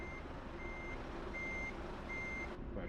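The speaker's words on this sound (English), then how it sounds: "you see that this truck is loading up here" Euro Truck Simulator 2 truck reverses during loading, its regular reversing beeps repeating in evenly spaced pulses over a constant low engine rumble, no talk.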